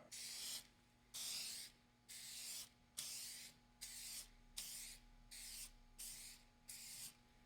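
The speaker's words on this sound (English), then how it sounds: "next, I think we're just going to go ahead and spray the clear coat on" Spray gun hisses in regular bursts about once a second, spraying automotive clear coat on a Honda CR-V, each blast a broad airy whoosh separated by brief pauses, with no talking.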